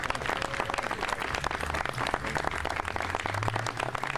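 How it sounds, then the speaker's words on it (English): Sustained round of applause at a Philadelphia VIP grant press conference, dense steady clapping filling the room for several seconds without a break. "let's give them a round of applause for their work"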